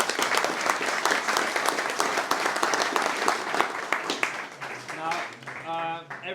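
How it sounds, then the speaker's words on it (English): An audience at a cycling talk event applauds steadily with dense, close clapping that thins out toward the end as voices begin to rise over the last claps. "can we get a big round of Thank applause?"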